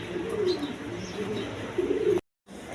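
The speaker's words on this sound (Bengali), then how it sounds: "এক পেয়ার চুইটাল হাই ফ্লাইং গিরিবাস কবুতর আছে" Giribaz high-flying pigeons, a pair, coo in low rolling calls, close and fairly loud, with a brief silent break near the end before the cooing resumes.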